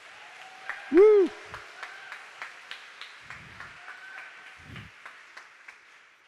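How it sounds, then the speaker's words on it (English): Light, scattered clapping from a small audience at a late-night organ concert ticks along steadily for several seconds, opened by a single loud whooping cheer and a few low murmurs. "Please give applause to Alex and the people at Media Services."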